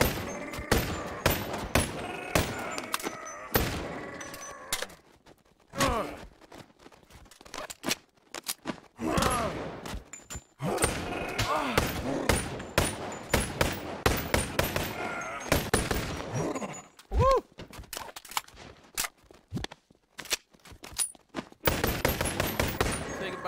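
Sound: gunfire in the VR video game Boneworks

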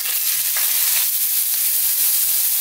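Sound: onions and green chillies frying in hot vegetable oil

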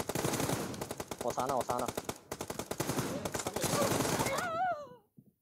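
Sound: gunfire in a video game

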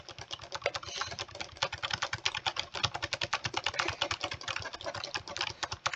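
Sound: mouse clicking at a computer

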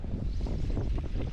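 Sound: wind blowing

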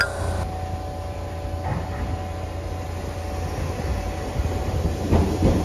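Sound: 305 series train at Chikuzen-Fukae station

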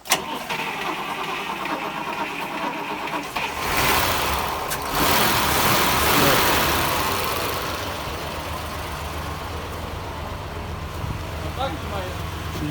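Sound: 1965 Buick Wildcat engine started and idling

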